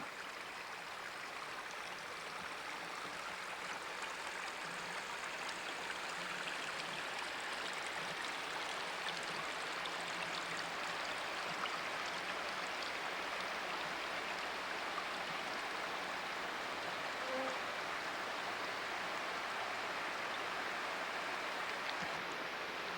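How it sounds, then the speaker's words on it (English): A beautiful stream of water running down a hillside in wilderness near Eutsuk Lake, heard as a soft, continuous rushing wash, fairly faint and steady, with no voices. "And then there's always this beautiful water just running down the hill."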